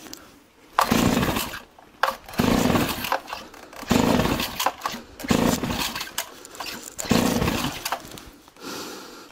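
Chainsaw that no longer starts being pull-started after a new spark plug, with repeated rough ripping pulls and sputtering bursts, close and loud, roughly every second or two.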